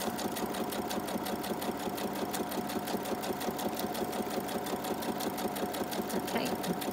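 A sewing machine runs continuously, stitching a vellum pocket onto a paper envelope with a fast, even mechanical chatter close by.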